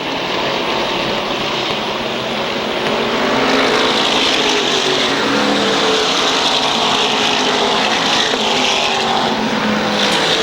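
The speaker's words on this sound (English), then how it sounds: "Gary Dyer off the speedway on the backstretch, pulling the 12X to the infield" SK Modified race cars roar around the Waterford Speedbowl oval, a loud continuous blend of several engines at full throttle that swells as the pack comes closer.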